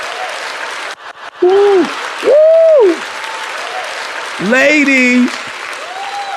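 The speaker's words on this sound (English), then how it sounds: "Give us some claps." Studio podcast audience clapping steadily beneath loud voices whooping and calling out, with the applause continuing as a constant backdrop between the shouts.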